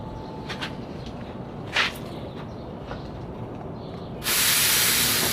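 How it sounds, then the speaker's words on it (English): A Toyota car's air conditioning compressor starts up during refrigerant refilling, giving a steady low mechanical hum that ends in a loud, sustained hiss of gas, with short bursts of hissing earlier. "So now the compressor had been started."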